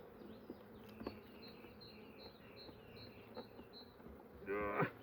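Honeybees from a very weak colony buzz faintly during a frame inspection, a low continuous hum with brief louder passes, plus a short rustling burst near the end.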